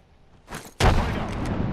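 A frag grenade goes off in Apex Legends: a short whoosh, then one sudden loud blast that rolls into a sustained rumble with scattered gunfire crackling through it, no voices.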